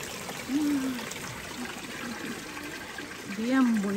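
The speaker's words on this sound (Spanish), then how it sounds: "Y va cayendo mucho agua, miren" Water trickles and drips steadily inside a limestone cave at Maquoketa Caves State Park in Iowa, a soft continuous wash with a voice talking over it at moments.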